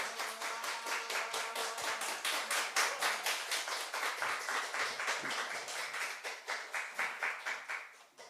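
Congregation at a Sunday church service claps in a steady, rhythmic unison beat, many hands striking together at close range for about eight seconds with no talking.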